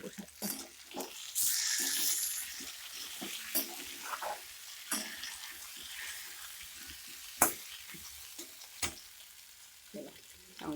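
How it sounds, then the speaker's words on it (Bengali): Vegetables fry in oil with panch phoron, giving a soft, steady sizzle and light stirring clatter in a home kitchen, with scattered clinks and knocks over the top. "এই দেখো মানে সবজিটা আর কি তেলে দিয়েছি পাঁচফোড়ন দিয়ে"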